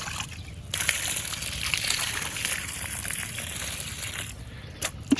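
Close, steady splash and trickle of water poured at the base of a newly planted G-9 banana sapling, beginning abruptly and fading near the end, with no one speaking.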